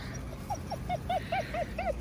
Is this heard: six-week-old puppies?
yes